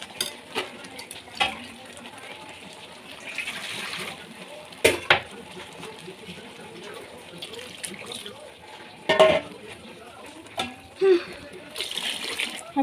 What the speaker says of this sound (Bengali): এখন এখানে গরম জল দিয়ে দেবো।